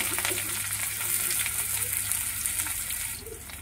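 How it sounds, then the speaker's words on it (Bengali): Chopped onions frying in hot oil with black cumin give a close, steady sizzle that hisses continuously and eases slightly in the last moments. "এবার পেঁয়াজ কুচিগুলো দিয়ে দিচ্ছে।"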